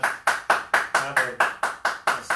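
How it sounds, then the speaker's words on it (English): A group of people clap their hands in a steady, even rhythm of about ten sharp, close claps. "let's start our clapping today for everybody that's not at home but that's helping us"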